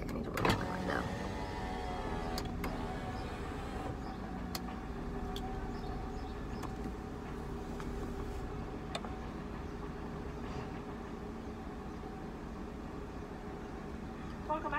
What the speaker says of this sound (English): I need to roll down my window.